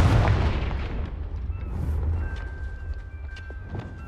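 Fiery Confringo blast spell explosions in Hogwarts Legacy, loud booming bursts with rumbling low end, followed by crackling hits and a sustained magical tone.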